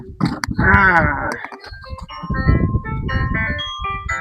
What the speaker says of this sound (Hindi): देखे फोन आवत है रे।